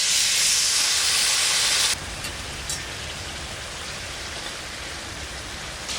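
Spice water poured into a hot pan of hilsa fish curry gives a loud, dense steamy sizzle for about two seconds, then settles into a softer, steady bubbling hiss.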